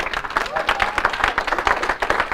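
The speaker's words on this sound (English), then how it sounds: "Y'all can go ahead and clap about that." Audience applause from a seated crowd at a network presentation, a steady dense clatter of many hands clapping close by for a couple of seconds.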